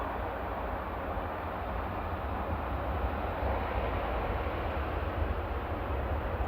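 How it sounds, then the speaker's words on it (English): An Air Tanker jet departs Manchester Airport as a steady, distant engine roar that swells slightly midway, heard from outside with no voices. "There's the air tanker departing."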